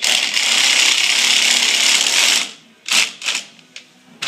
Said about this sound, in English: all we got to do is tighten those screws on all the way, top and bottom